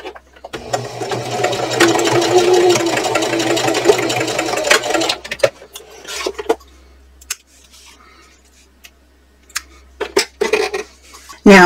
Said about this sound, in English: I'm going to sew across using a 3/8 inch seam allowance